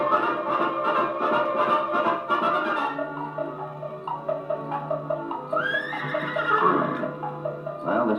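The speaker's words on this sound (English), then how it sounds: "let's get on our horses and be on our way." Horses neigh and whinny several times on an old western radio drama, with hooves clip-clopping between the calls, fairly close and clear over a faint background hum.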